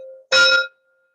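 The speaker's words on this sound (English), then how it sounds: "May this gong's vibration clean you fully." A single gong stroke during a Shiva meditation chant, a bright ringing hit with strong overtones that fades quickly, preceded by the tail of a sung tone.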